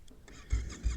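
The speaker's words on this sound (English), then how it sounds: "I'm gonna start her up." A 2021 Yamaha MT-07 motorcycle engine, already warm, cranks and catches, with two heavy low bursts of rumble rising from a quiet start, close by.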